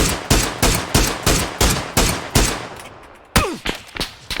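Gunfire in a competitive squad battle-royale video game: a rapid series of loud, close single shots at an even rhythm, a brief pause, then a sharp burst with a ringing tail and a few more shots.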